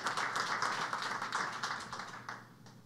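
An audience applauds to welcome the panelists at a business panel discussion, steady broadband clapping for about three seconds that tapers off at the end, with no talk over it.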